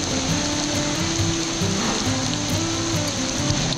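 Steady rain falls at Doris Leeper on a wet day, a constant dense patter of drops on surfaces that stays even and fairly loud throughout, with no voices.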